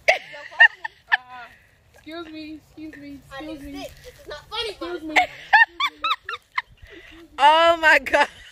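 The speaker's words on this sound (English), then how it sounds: "Y'all need to spend time with this duck." A duck quacks close by in loud, irregular bursts of nasal calls, with short pauses between them.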